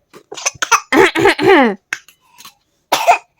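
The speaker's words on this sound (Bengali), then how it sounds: "কাশি হয়েছে ঠান্ডাও লেগেছে দেখো" A young child coughs in a few short, close bursts spread over a few seconds, with brief voiced sounds in between.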